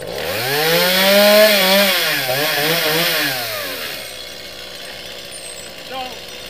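A small chainsaw with a 16-inch bar runs close and loud, its engine note swooping up and down through several hard revs before settling to a lower, steadier drone.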